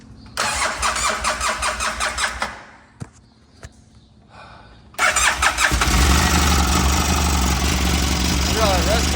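Polaris RZR 800 engine that has sat for years cranking in rhythmic bursts, stopping, then catching and firing into a loud, rough, steady idle close by.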